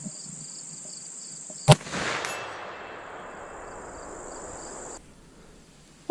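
A CVA Optima V2 muzzleloader rifle fires a single loud, sharp shot at a 200-yard range, followed by a rolling echo that fades out. A constant high insect drone hums in the background.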